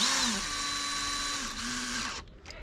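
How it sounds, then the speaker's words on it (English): A power driver tightens screws on the air filter housing of a 2007 Honda Accord, giving a steady whirring buzz with a rising and falling pitch. It runs continuously for about two seconds, then cuts off. "And put these screws back in. And just tighten those screws."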